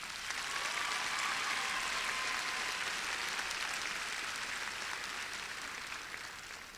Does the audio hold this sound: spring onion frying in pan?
no